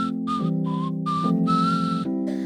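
A person whistles a bright, wavering melody of several short phrases over a steady sustained musical drone, clear and close throughout.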